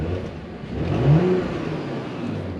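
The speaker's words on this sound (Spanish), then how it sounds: "Lo vamos a acelerar un poquito para que podáis escuchar vosotros también." A stationary car's engine is revved briefly in its basic drive mode, the mid-pitched hum climbing to a short peak near the middle before settling back to a steady idle, close and alone.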